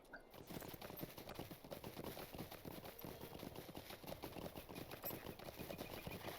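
A horse's hooves clip-clop in a steady, quick rhythm while being ridden in the Lord of the Rings Online video game, continuous and fairly prominent, with no talking.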